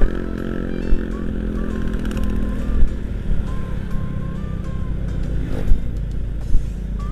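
A motorcycle ridden through town streets, its engine droning steadily and close with a low rumble, faint other traffic mixed in and occasional brief louder bursts.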